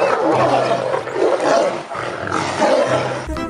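An in-game tiger in Jurassic World Evolution 2 lets out loud, close, rumbling roars and growls in several swelling bursts, with no talk over them.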